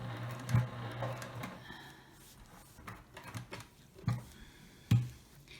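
A sewing machine back-stitching through fabric coasters, giving short bursts of mechanical ticking and patter with a few louder knocks, close by and with no talk.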